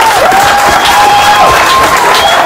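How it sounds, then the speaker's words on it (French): Guests applauding and cheering at a traditional Gabonese customary wedding as the groom arrives, a loud continuous wash of clapping and crowd voices with a high whistle-like tone running through it. "sous la mairie des applaudissements, s'il vous plaît."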